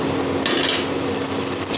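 Stirring mango pieces with mustard seeds and a whole green chilli in a pan, a steady continuous scraping and sizzle with a brief brighter clatter near the start, fairly close and without talk.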